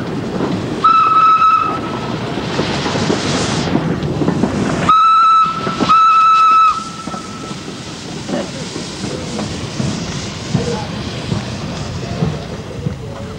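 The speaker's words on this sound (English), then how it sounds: "Lion chuffed up and down the short section of line inside the grounds of the Vulcan Works of Ruston Diesels at Newton Le Willows" The restored Lion steam locomotive runs on a short section of line inside the Vulcan Works at Newton-le-Willows, giving loud whistle blasts over continuous steam hiss and rumbling train noise.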